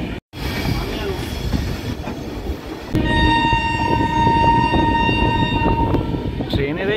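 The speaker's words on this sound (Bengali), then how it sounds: "ট্রেনের এই আওয়াজটাই কিন্তু মন ভুলিয়ে দেয়" The Kanchan Kanya Express runs near Kolkata's Dum Dum Junction, with a loud, close rumble and rhythmic wheel clatter, a brief dropout near the start and a sustained horn-like tone joining partway through.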